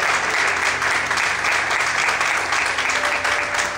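A church congregation claps loudly and steadily for several seconds, a dense continuous wash of many hands with no gaps, filling the room.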